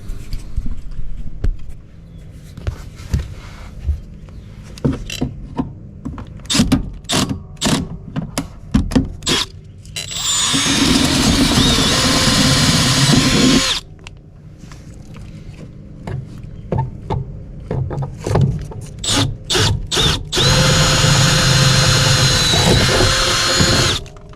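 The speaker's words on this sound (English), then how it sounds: "I need a 1/4 inch drill bit to drill out the holes so that the bolts will fit through" A power drill with a 1/4-inch bit whines in repeated short bursts drilling out holes for a wiring fuse box, then runs in two longer sustained stretches, loud and close with no talking.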